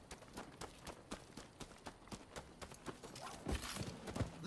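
Horse hooves clip-clop at a quick, regular pace in the samurai video game Rise of the Ronin, close and fairly soft, with a brief louder burst of action near the end.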